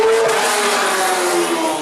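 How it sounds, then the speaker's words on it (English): A Pagani sports car powered by a tuned Mercedes engine roars loudly up close, its exhaust a dense, sustained rasp with a steady engine tone. "crazy exhaust sound of overclocked Mercedes engines"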